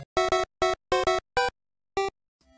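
Super Mario Bros. theme played on the two pulse-wave channels of an NES clone console, brighter and buzzier than the original, as a quick run of staccato chiptune notes in an uneven rhythm ending in near silence.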